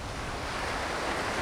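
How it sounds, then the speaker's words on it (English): Cold wind blowing steadily at the seashore while fishing near Gisborne, New Zealand, a loud, broadband rush with surf mixed in and buffeting on the microphone. "Gee, that wind's getting a bit cold, Trevs."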